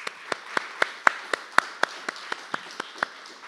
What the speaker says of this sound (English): May we give them one last round of applause?